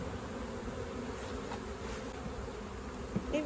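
Honeybees hum in an opened hive at a beekeeping farm, a dense, steady buzzing close by that holds without a break, with a small knock near the end.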